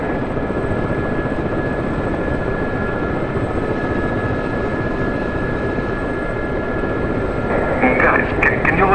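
An SA342 Gazelle helicopter in DCS comes in to land, its rotor and turbine drone loud and steady throughout, with faint tonal beeps near the end.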